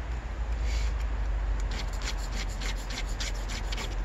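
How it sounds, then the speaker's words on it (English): A chainsaw rip chain is sharpened by hand with an old file, giving a run of rhythmic rasping strokes that grow more distinct and regular toward the end, close and clear with no talk. "This is an old file that I file with, that I sharpen with vinegar."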